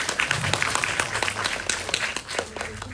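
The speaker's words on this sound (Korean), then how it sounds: "앞에 나와주신 감독님과 배우님들께 박수 한 번만 부탁드리겠습니다" A crowd claps steadily at a youth film festival screening Q&A, a dense patter of many hands continuing for a few seconds without talking.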